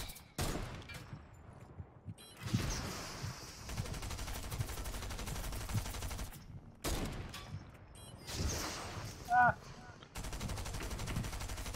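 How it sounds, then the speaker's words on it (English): Gunfire and explosive launcher shots in a Fortnite battle against a tank, coming in loud bursts separated by brief silent gaps. "See, now I can shoot the tank."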